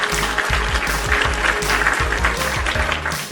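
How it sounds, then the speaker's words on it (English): A short round of applause greets a guest on a wrestling podcast, dense and steady for a few seconds over low thumping tones. "Round of applause"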